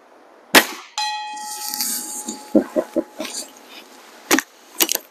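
A Feinwerkbau sport air rifle fires and a struck metal bell target rings out in a sharp clang with a sustained ding, followed by several quieter knocks and further shots.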